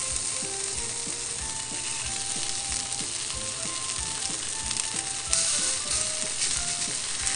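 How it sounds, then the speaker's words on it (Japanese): Pork belly rolls wrapped around garlic stems sizzle and fry steadily in a pan, a loud continuous crackle with small popping bursts throughout, no voices. "で、肉巻きを焼くよ。"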